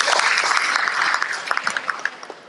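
Audience applause at a panel session on funding enterprise innovation in India: a dense wash of clapping from a full room, steady at first and then thinning into scattered individual claps toward the end.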